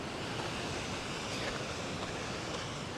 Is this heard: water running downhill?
yes